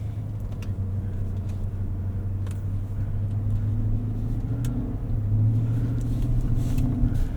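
Cabin of a 2025 Cadillac Escalade Platinum 4WD on a night drive, with a steady low road and engine rumble that rises gently as it picks up speed.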